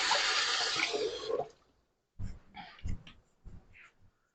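Tap water runs loudly for about a second and a half while sticky hands are washed at a kitchen sink during baking. It then stops, followed by softer rubbing and handling noises.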